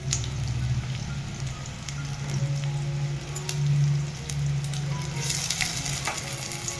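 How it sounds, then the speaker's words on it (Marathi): Cumin, mustard seeds and garlic sizzle in hot oil as a tempering, giving a steady close crackle with faint pops and a low hum underneath, no talking. "इथं मी जिरे, मोहरी आणि लसूण फोडणी टाकलेला आहे."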